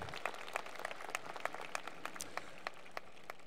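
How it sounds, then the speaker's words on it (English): Graduation audience at a high school commencement ceremony clapping, a steady mid-distance patter of applause from a crowd with a few sharper individual claps standing out. "So yes, Dr. Oliver, let's give him a round of applause for his impact on BA"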